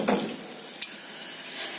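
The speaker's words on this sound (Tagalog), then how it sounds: "And hintayin natin siya maprito." Tofu frying over low heat in a pan, a steady soft sizzle with a couple of brief louder crackles and stir-like scrapes, close and alone without talk.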